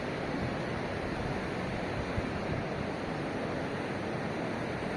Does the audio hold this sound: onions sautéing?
no